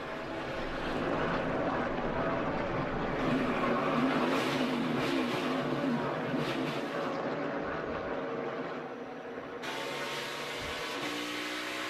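A NASCAR Cup Series race car getting loose as it rides the curb on the Daytona road course, 2021, with a steady loud engine roar and broadband track noise throughout, easing slightly toward the end.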